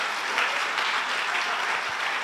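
A church congregation applauds during an online Sunday worship service, a short burst of steady, dense clapping that stays even from start to finish.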